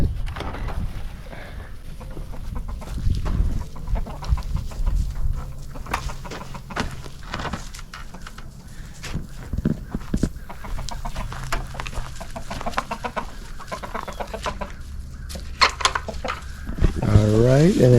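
Chickens cluck and squawk intermittently around the space, with scattered footsteps and handling noises and a person speaking now and then.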